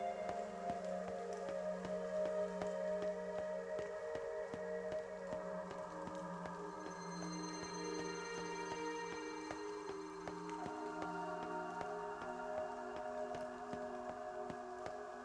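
Soft, steady rainfall in the video game NieR Reincarnation, a faint continuous patter of drops beneath sustained, gentle musical tones, with no voices.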